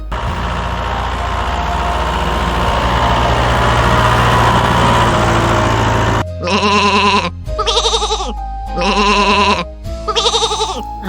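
On a farm, a low engine-like rumble fades out, then a sheep bleats four times in quick succession, loud and close, each cry a wavering, nasal baa.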